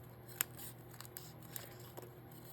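Scissors cutting paper in an art journal, a few quiet, close snips spread across a hushed background.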